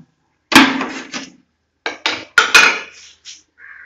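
Two metal dosa spatulas press and slap layered wheat parotta, making several sharp, close metallic clacks in short bursts separated by brief silences.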